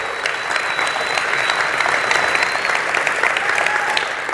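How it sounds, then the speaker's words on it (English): Sustained applause from a live podcast audience, dense and steady throughout with no pauses, fairly close and even in level. "give Stephen another round of applause"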